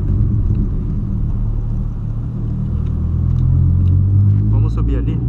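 Loud, close rumbling roar of a Volkswagen Polo fitted with a sport exhaust, holding steady throughout with a slight rise near the end.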